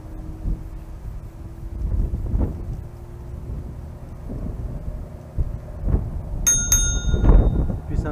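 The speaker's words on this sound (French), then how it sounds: "Plus sympa avec la sonnette." Bicycle bell on a homemade low rider scooter, rung in two quick bright dings near the end over a windy, rumbling outdoor background.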